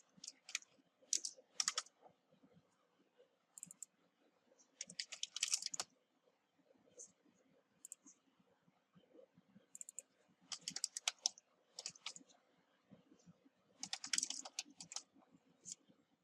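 Typing on a computer keyboard, with quiet, irregular bursts of crisp key clicks separated by short pauses, close by and with no talking.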